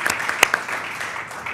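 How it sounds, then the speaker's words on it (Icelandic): Applause breaks out at a joint meeting of the Reykjavík and Akureyri city councils, a burst of close claps that fades into a softer, sustained patter from the seated audience. "Þið megi alveg klappa."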